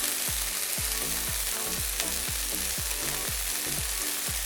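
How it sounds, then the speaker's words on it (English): Steady, loud sizzling of Thai-style beef satay skewers on a hot grill plate, with a repeating low thumping pulse running underneath throughout. "And now I'm gonna get our beef sticks sizzling."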